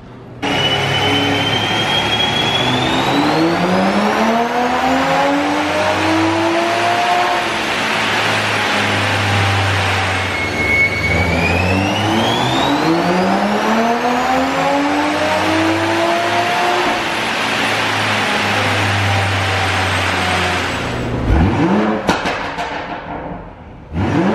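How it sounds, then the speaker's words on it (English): A tuned car with a downpipe and moderate burble tune revs hard on a dyno, making two loud, long rising engine pulls that drop back between runs, then a final lift-off and quick fade, with no voices. "Time for some dyno hits after the tune's on."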